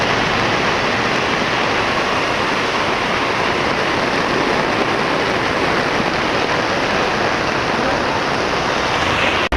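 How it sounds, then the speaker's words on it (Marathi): Dense, steady roar of heavy monsoon rain pouring down on a highway without pause, loud and close throughout. "पावसाचा जोर वाढत चाललेला आहे कारण इतका जोरात पाऊस आहे"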